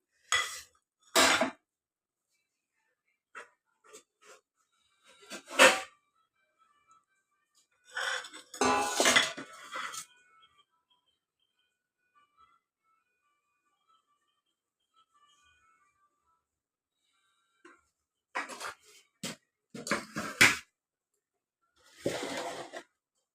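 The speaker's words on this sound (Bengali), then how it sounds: "আমি একটা পরিবেশন করে মাছটা ঢেলে নিলাম" Fish curry with drumsticks and potato being served from a pot into a dish, with scattered clinks and scrapes of a spoon and metal utensils separated by long quiet gaps, close and fairly soft.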